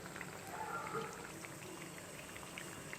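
Banana appam (pazham appam) fries in oil over a low flame, giving off a soft, steady sizzle and faint bubbling crackle, quiet and even throughout.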